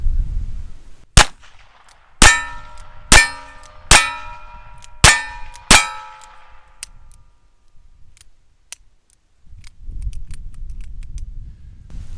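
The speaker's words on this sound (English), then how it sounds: "We're going to fan it, see if we can get all 6 on an 18 by 24 inch target." Ruger Wrangler single-action revolver fanned at an 18 by 24 inch target outdoors: six sharp, loud gunshots in a quick uneven string, each ringing out briefly, then quiet with low outdoor rumble.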